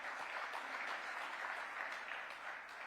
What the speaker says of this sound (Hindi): महिलाओं ने तो ताली बजा दी,